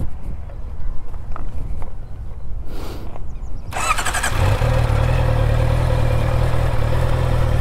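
A Honda CBR650R sits quiet with light clatter and handling noises before its engine fires up near the midpoint, settling into a loud, steady, close idle that holds to the end.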